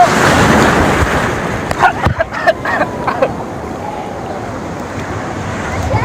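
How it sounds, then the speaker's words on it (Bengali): Ocean surf breaks and washes close by at a beach in Digha, a loud rushing roar that fades into scattered splashes, with wind buffeting the microphone. "এই দেখো এই একটা ঢেউ"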